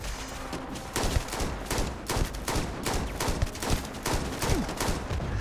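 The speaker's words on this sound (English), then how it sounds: "I don't really need to reload after each shot, do I?" Gunfire in the video game Starfield, a rapid series of sharp shots cracking out at a steady rhythm, loud and close, with no talk over them.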